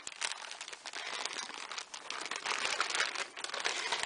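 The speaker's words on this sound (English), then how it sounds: "the weft essentially comes in a long plastic bag. So you've got to open that up first." A long plastic bag holding a hair weft is pulled open, giving a busy stretch of crinkling and crackling that comes in close, uneven bursts with no speech.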